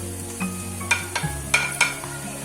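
Vegetables for chicken hot and sour soup sizzle in a pan over high flame while a utensil stirs and scrapes, several sharp clinks and scrapes punctuating the steady close frying hiss.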